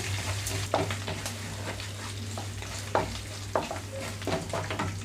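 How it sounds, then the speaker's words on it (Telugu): Thinly sliced round green chillies fry in an oil tempering for upma, giving a continuous close sizzle with a few clattering stirs and a low steady hum behind. "ఇందులోనే పచ్చిమిరపకాయలు కూడా వేస్తున్నాను"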